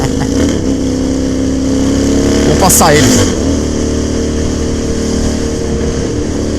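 A motorcycle engine revving loudly up close, a steady throaty drone that swells into a sharper rev midway, while someone talks over it.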